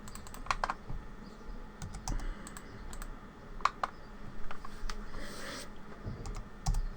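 Rapid typing on a computer keyboard while drafting a mosque floor plan in AutoCAD, with irregular bursts of close, crisp key clicks over quiet room hiss.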